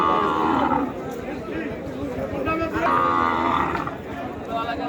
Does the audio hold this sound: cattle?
yes